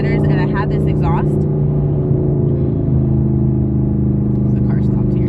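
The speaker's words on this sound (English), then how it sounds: "this exhaust is pretty loud" Chevy Camaro ZL1-1LE with catless headers and a loud exhaust, a constant deep rumble throughout, with a voice speaking over the start.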